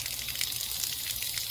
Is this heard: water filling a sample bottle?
yes